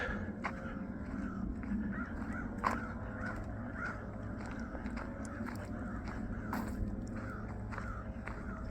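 Several crows caw repeatedly from a tree along a river in bosque woodland, harsh calls overlapping in an irregular rhythm at moderate distance over steady outdoor background noise.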